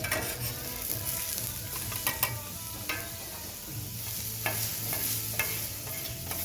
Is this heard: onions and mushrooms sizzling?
yes